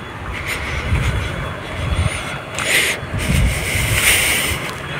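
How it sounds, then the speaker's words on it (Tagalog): A small speedboat with a big engine roars nearby over rushing water and wind, its drone swelling and easing in uneven surges. "Maliit speedboat. Lalaki ng makina."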